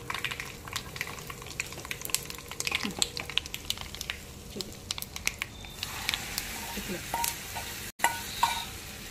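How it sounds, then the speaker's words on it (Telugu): A tempering with asafoetida sizzles in hot oil for an Indian jujube pickle, with the stove just switched off. Soft, continuous frying hiss with scattered sharp crackles and pops sounds close by, and a voice speaks briefly. "మంచిగా వేగింది తాలింపు. కొంచెం ఇంగు వేసుకుందాం."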